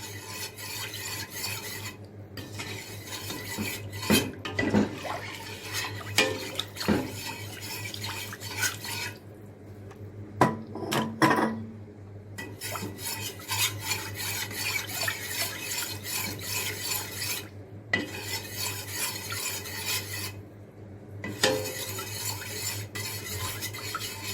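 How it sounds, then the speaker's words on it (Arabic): White sauce pasta stirred steadily in a pan, soft scraping and sloshing strokes repeating close by over about twenty seconds, quiet and without any talking. "هفضل اقلب فيها باستمرار كده."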